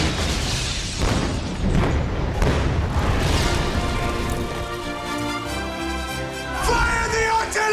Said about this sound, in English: Fire the artillery!